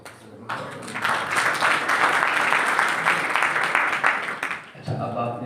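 An audience at a religious scholarly gathering at Jamia Hussainia in Alipur Chatha, Wazirabad district, breaks into sustained applause that holds steady for about four seconds, then cuts off abruptly.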